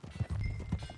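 Horse hooves clip-clop on the ground in the Western video game Red Dead Redemption 2, a steady moderate rhythm of soft thuds over a low rumbling game background.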